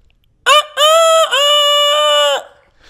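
A man mimics a rooster crowing, one loud close call that starts with a sharp burst and stretches into a long wavering crow before trailing off.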